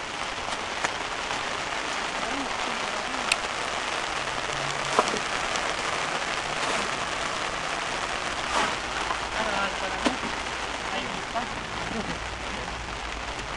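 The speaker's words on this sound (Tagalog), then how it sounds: "Oh, ulan na." Steady rain pours down across the whole stretch at a construction site where cement is being laid, a dense even hiss with scattered heavier drops and taps over a low murmur of background activity.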